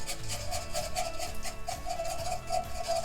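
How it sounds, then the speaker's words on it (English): A cornstarch-thickened sauce whisked briskly in a bowl, producing rapid, rhythmic scraping and swishing strokes, close and steady throughout. "Give it a whisk."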